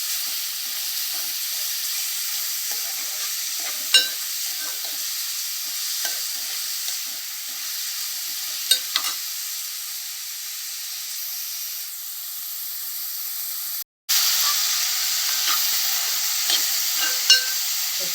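Onions frying in a pan for an Andhra-style chicken fry, a steady close sizzling hiss with occasional stirring clicks and a brief cut near the end; no talking.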